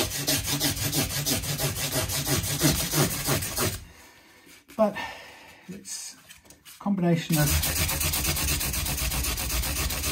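Steady rhythmic scraping of sandpaper rubbing on the wooden body of a Fender Stratocaster guitar, interrupted briefly by someone speaking before the sanding resumes.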